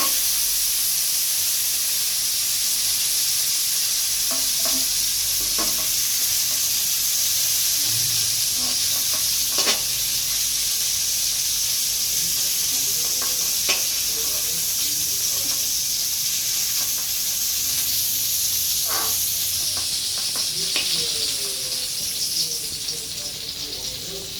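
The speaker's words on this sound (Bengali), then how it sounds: "গ্যাসের আঁচটা বাড়িয়ে দিলাম, লালচে করে ভাজা হতে থাকো" Cauliflower fries in oil over a gas flame turned up high, a loud steady sizzling hiss that fills the whole stretch, with occasional spatula taps and faint background voices.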